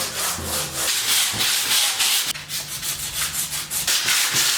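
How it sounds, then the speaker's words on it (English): Sanding paper rubs rhythmically over a painted wooden cupboard, a close, loud, steady back-and-forth scraping in repeated strokes, no voices. "now I have to sand it all down and start again"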